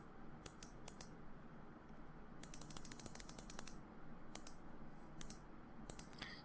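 Quiet computer keyboard typing, several quick bursts of crisp clicking keystrokes separated by short pauses, close and faint over a steady low background hum.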